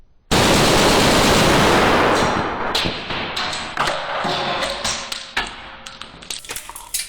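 Full-auto rifle fire in Ghost Recon Wildlands: a loud sustained burst of rapid shots opens the scene, then gives way to scattered individual reports and thuds that trail off irregularly.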